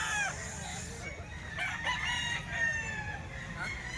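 A rooster crows repeatedly over steady farmyard background noise, loud and close, with no talking; the bird is a nine-month-old stag offered for sale.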